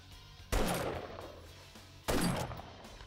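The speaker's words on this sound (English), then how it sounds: "The lever-action rifle has a 5-shot tubular magazine." Two loud, sharp lever-action rifle shots from the game 7 Days to Die, about a second and a half apart, each with a booming report and a ringing tail over quiet ambience.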